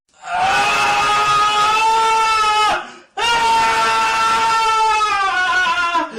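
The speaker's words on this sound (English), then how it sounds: "Someone screaming coming from below me." Two long, loud, anguished screams from someone below in a dark house, each sustained for a couple of seconds with a short gap between, wailing and sobbing in quality.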